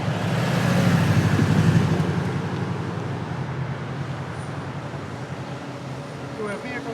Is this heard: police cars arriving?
yes